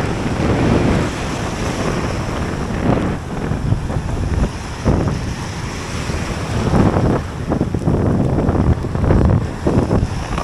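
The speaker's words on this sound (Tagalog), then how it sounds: "Grabe yung hangin." Strong wind buffets the microphone in loud gusts over the rush of waves at sea during ultralight fishing, with no talking.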